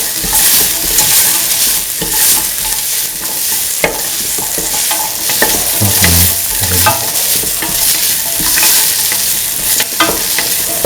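Onion frying in a pan for a coconut milk rice dish, with a loud, constant dense sizzle and occasional stirring scrapes and knocks, and no talking.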